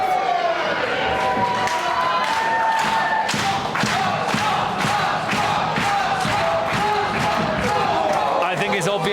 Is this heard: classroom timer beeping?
no